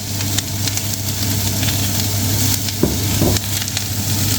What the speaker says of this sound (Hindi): बीन्स स्प्राउट्स मैं ऐड कर रहा हूँ थोड़े से